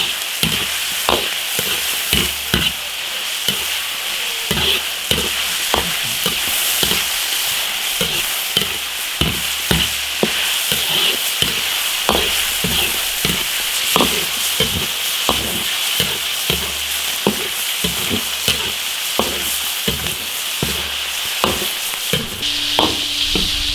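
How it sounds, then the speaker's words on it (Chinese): Chicken pieces and peanuts stir-fried in an iron wok for Sichuan spicy diced chicken, a steady loud sizzle broken by regular scraping strokes of the spatula throughout, with no talking. "鸡子花生炒，把皮炒紧点。"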